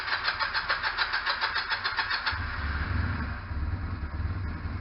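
A motorcycle engine being started after winter storage with a cold engine: a rhythmic cranking and sputtering for about two seconds, then catching into a steady low idle rumble, close and fairly loud, with no talking.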